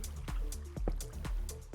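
Flowing lava meeting flowing water in Minecraft, giving soft repeated liquid drips and squishy pops in an irregular rhythm, close and moderately loud, with no talk over it.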